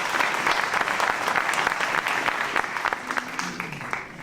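An audience at a farmers' meeting on the milk crisis in Quimperlé claps steadily and fairly loudly, a dense patter of many hands that tapers slightly toward the end.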